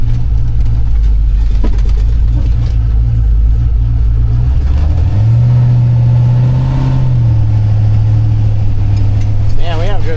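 Winnebago motorhome driving slowly around the block, a steady low engine drone from inside the cab that rises briefly as it accelerates, then settles back, loud and continuous throughout.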